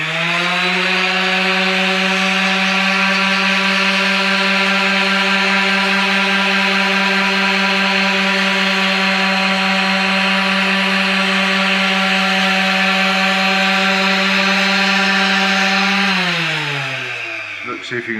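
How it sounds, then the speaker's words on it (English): A power sander smooths the curved outside of a wooden bulkhead being built for a sailboat, giving a loud, steady whining drone for most of the clip. It winds down near the end. "Now we go over to the sander, all set up."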